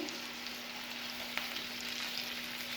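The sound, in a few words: chicken malai seekh kebab frying in oil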